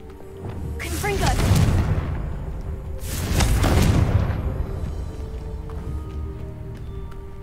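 Two heavy booming blasts from the Confringo explosive spell in the wizarding game Hogwarts Legacy, each a loud burst with a whoosh that rumbles and fades, spaced about two seconds apart over steady game ambience.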